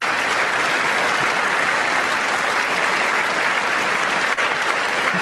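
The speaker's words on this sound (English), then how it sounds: "let's continue listening to this insane round of applause" A large crowd gives a long, loud round of applause, a dense and steady roar of clapping with no voices over it.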